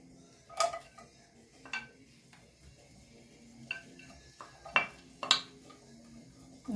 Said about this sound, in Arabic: نقلبوا البصل مزيان مع الزبده والزيت ديالنا